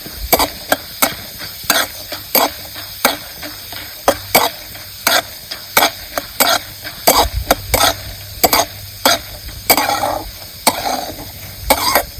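Chana dal roasting in oil in a pan for garlic chutney, with a low ongoing sizzle broken by repeated sharp spoon clacks and stirring scrapes against the pan at an irregular rhythm, no speech.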